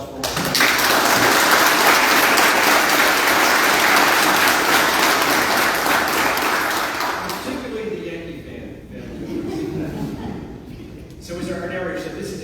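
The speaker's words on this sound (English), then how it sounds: "So can we give a warm round of applause for all?" A large audience at a military change of command ceremony applauds steadily and loudly for about seven seconds, then the clapping fades into a quieter room with scattered voices and murmuring.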